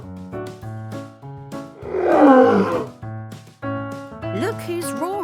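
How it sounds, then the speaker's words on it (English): A big lion roars on the savannah in a loud, rough burst at mid-clip, set between music, with a child-like voice rising over the end. "Look who's roaring. It's a big, strong lion."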